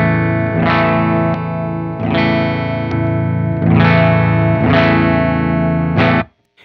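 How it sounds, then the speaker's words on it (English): An electric guitar plays loud sustained chords through a Lantern Sycamore pedal set with distortion fully down and volume maxed for a clean tone, five strummed chords ringing out before a sudden stop. "by lowering the distortion control all the way down and then maxing out our volume. This gives us a really clean signal."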